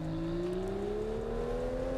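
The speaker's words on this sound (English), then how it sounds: "You can hear that little rev match when you go to neutral" A car engine in Test Drive Unlimited Solar Crown hums steadily and rises smoothly in pitch as it revs to match while shifting into neutral, close and continuous with no talk.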